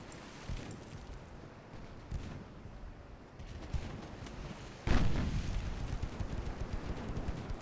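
Naval guns fire in the Ultimate Admiral Dreadnoughts naval battle game, scattered deep booms in a rumbling battle ambience, ending with one louder blast followed by sustained heavy rumble.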